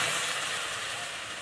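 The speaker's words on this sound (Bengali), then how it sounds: "এবার দেবো এই বাটি 2 বাটি গরুর দুধ" Cow's milk poured into a hot wok of fried semolina gives a loud, steady hiss and sizzle that eases only slightly over a second and a half, with no voices.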